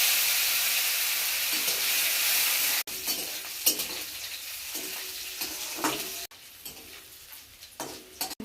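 Crushed garlic frying in a pan with five-spice seeds, dried red chilli, bay leaf and broken lentil dumplings, a loud close sizzle that cuts out abruptly, then resumes with stirring scrapes and crackles.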